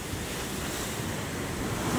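Strong water waves surge and splash nearby in a loud, continuous roar mixed with wind noise on the microphone, with no voices.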